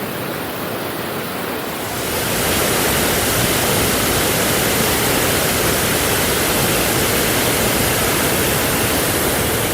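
Salto Mbigua at Iguazu Falls, Argentine side, pours as a steady, loud roar of falling water. It swells up after about two seconds and then holds as a constant wash, with no voices.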